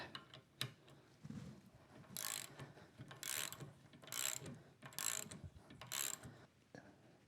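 A $5 GearWrench ratchet clicks in a motorcycle workshop, giving five loud, bright bursts of rapid pawl clicking at roughly one-second intervals, close and clear with no talking over it.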